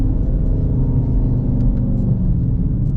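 Steady low engine rumble from a 2019 Dodge Charger RT cruising through a neighborhood, a continuous close droning hum with no talk over it.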